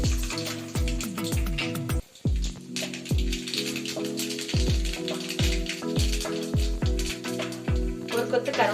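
Mustard seeds sputter in about 1.5 ladles of hot oil as Tamil-style tempering begins, giving a near, steady crackle of quick pops over a sizzle, with a short pause, then sharper bursts toward the end.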